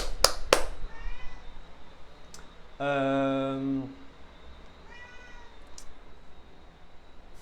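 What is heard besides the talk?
cat meowing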